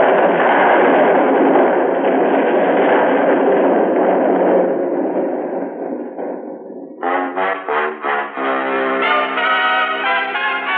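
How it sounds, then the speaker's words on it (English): A radio-drama explosion effect: a long, loud roaring blast that rumbles on and fades, then gives way to a series of ringing, bell-like metallic crashes. "by the time that explosion really took hold"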